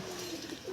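A pigeon of a racing breed gives a short, soft coo, close by and alone.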